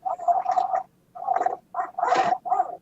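A racing game steering wheel controller on a Sega CD setup makes a rough, buzzing grind that comes in five short bursts with brief gaps between them.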